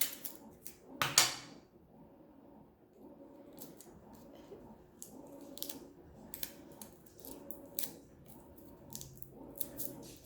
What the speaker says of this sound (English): Taping it is the most complicated part.